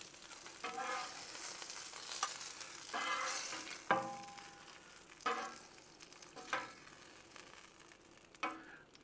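French toast sizzling quietly on a griddle, soft steady frying with several scraping clicks and clatters as pieces are handled.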